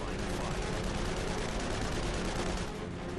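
Continuous dense rapid machine-gun fire from World War I fighter aircraft firing incendiary rounds, loud and unbroken, hammering away without pause over a constant roar.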